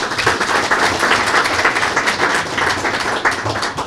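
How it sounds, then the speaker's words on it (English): Audience at a city State of the City address in Rochester applauds, steady dense clapping filling the hall at even loudness for the whole stretch. "We'll give you some applause."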